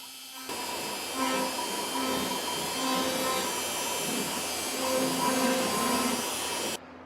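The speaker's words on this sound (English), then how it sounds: "I am just gonna be messing around on the CNC some more, making some signs" A CNC machine cutting signs runs with a loud, steady mechanical whine. It starts abruptly after half a second, holds an even drone with faint tonal shifts, then cuts off just before the end.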